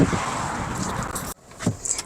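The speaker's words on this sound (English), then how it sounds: "Let's get in the car because it is hot and I'm not walking." Car sounds at close range: a steady engine and road rumble, then an abrupt cut to near silence, followed by a door-like thud and light rattling. No voices are heard.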